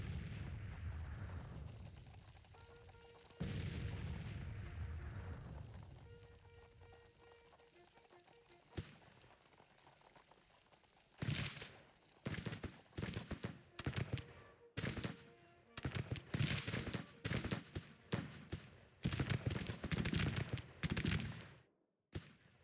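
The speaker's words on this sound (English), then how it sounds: "Those cannons did not do a very good volley." Cannon volley in the Civil War strategy game Grand Tactician, a ragged series of booming artillery shots fired one after another, some overlapping, loud and close, after a quieter stretch of rumbling battle ambience, ending abruptly in silence.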